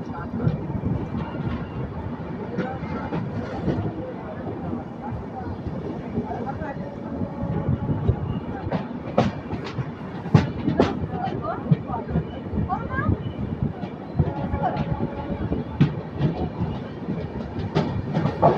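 East Coast Express train 18045 rolls on from the inside of a 3rd AC coach on the Eluru to Hyderabad run, a steady low rumble with repeated rail clacks and squeaks, and faint voices now and then.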